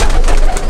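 An imported locket pigeon gives a short, close, loud coo with no one speaking.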